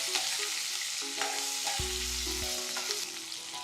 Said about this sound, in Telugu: పల్లీలు కూడా వేసేస్తున్నాను